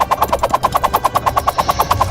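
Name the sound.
gunfire in the video game Totally Accurate Battle Simulator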